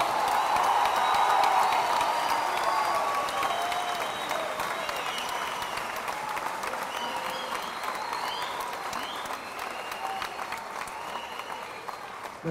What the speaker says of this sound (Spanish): Fuerte el aplauso para quien será el gobernador de la provincia de Buenos Aires, Axel Kicillof.